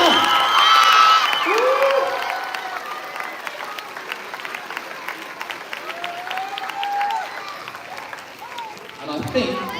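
A crowd at a school's 2023 final assembly in Kuala Lumpur bursts into loud clapping and whooping that fades to sustained applause. Shouts and voices rise over it, and a fresh swell comes near the end.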